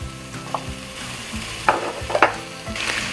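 Onion and capsicum are tossed into a pan of kadai paneer masala and sizzle, with a steady frying hiss and a few sharp clicks and scrapes from the spoon against the pan, close by and with no voices.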